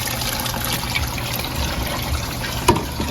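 Water trickles and drips steadily in a box used for holding mud crabs, a soft continuous dribble and gurgle as it overflows, with one brief louder splash near the end.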